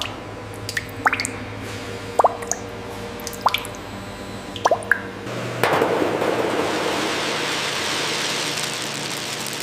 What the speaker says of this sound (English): The process begins as the warm, viscous liquid fills the stainless steel molds.